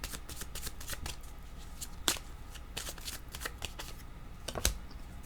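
A deck of oracle cards shuffled up close, a steady run of riffling, flicking card sounds with a couple of sharper snaps, no speech.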